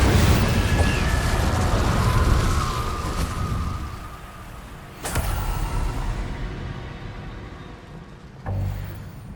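An Incendio fire spell is cast in Hogwarts Legacy, giving a loud roaring fiery burst that slowly dies down, followed by a sharp crack midway and another short burst near the end.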